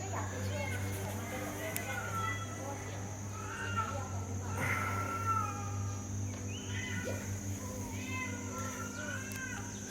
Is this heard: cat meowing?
yes